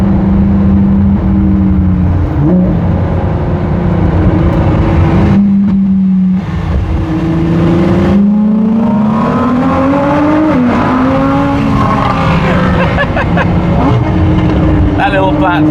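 An STO supercar accelerating on a German road, its engine loud and close with a rising, revving pitch that dips and climbs again as it pulls past, while people talk over it.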